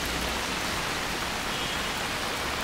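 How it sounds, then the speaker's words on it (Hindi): Heavy rain pours down beside a road, a loud, steady, hissing wash with no breaks or voices, close and dense across the whole stretch. "बारिश आ चुकी है बहुत ही स्पीड से पड़ रही है बारिश"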